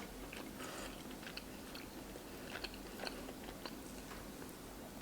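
Someone chews fried lobster from a seafood boil up close, with quiet, irregular crunchy bites and soft mouth clicks scattered over low room noise, and no talking.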